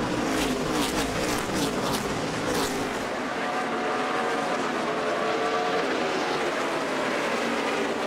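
NASCAR stock cars roar through the final lap of the night race at Bristol, a loud, continuous engine din with passing whooshes early on and a commentator's voice running underneath.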